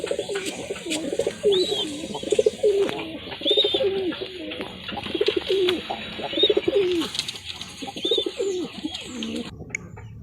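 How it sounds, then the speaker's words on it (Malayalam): Pigeons coo in a loft in low, rolling phrases, repeated steadily and close by, with occasional higher chirps over a faint background hum. "ഇതാണ് എൻ്റെ പ്രാവൻകൂട് എൻ്റെ നാല് ജോഡി പ്രാവാണ് ഇപ്പോൾ ഉള്ളത്"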